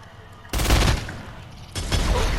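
Video game gunfire aimed at a mine: two loud, dense bursts of rapid shots, the first lasting about half a second and the second starting roughly a second later, over a low background with no talking.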